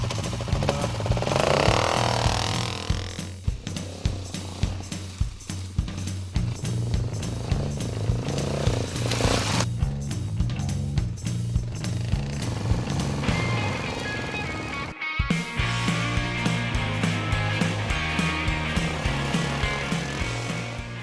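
Mach 400 Scrambler motorcycle engine turning over, then a steady rumble with rhythmic pulses and rev changes, a short break about three quarters through before it runs on, no talking.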